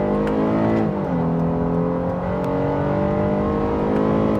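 A 2024 Honda Ridgeline Black Edition accelerates hard in second gear, its engine note loud and close from inside the cabin, rising steadily with a brief dip around a shift before climbing again.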